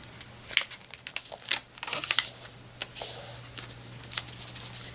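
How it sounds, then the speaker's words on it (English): Sheets of paper crinkling and creasing as they are folded into triangles for a kusudama flower, close and crisp, with bursts of rustling and sharp creases coming at an uneven pace and no voice. "Just fold it into a triangle."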